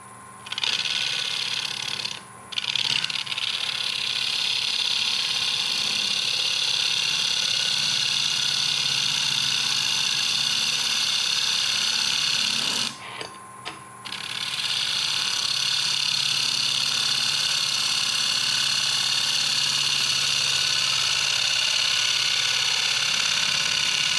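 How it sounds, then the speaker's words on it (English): A wood lathe turns a workpiece while a ring tool cuts with the back of its bit, taking very fine shavings; a steady, loud whirring drone runs throughout, dipping briefly twice. "I'm going to be turning with the back of the bit there."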